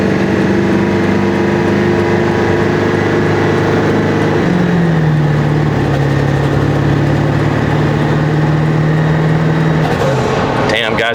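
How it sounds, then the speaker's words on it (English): A 7.3 Powerstroke diesel truck with a cold air intake under full pedal from a standstill, its engine droning loud and continuous with steady harmonic tones that dip and shift as it accelerates, a voice talking over the cabin noise. "I can do a 0 to 60 full pedal down"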